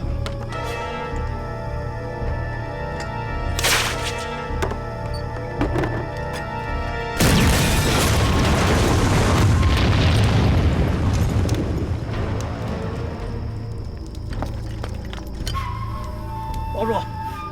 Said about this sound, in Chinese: 用我们的手榴弹炸他们的炸弹。